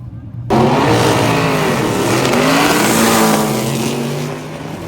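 A drag race car screams down the strip on a fast full-throttle pass, a loud sustained engine roar rising sharply and then fading slightly as it speeds away.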